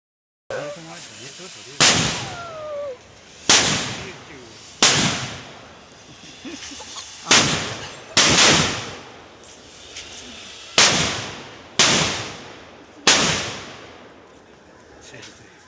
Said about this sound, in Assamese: বোমা মাৰিব এতিয়া